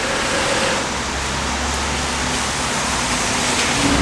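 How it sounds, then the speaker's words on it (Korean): Heavy rain pours outdoors as a constant dense hiss, steady and loud throughout, with a faint low rumble of traffic underneath. "비가 꽤 오죠?"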